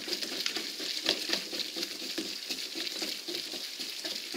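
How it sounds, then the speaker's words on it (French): Thick savoury cake batter with endives, bacon pieces and cheese being stirred in a bowl, a steady wet squelching and scraping that carries on without a break, close and moderately loud, with no talking. "On mélange correctement."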